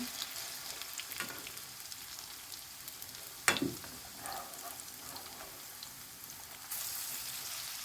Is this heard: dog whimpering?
no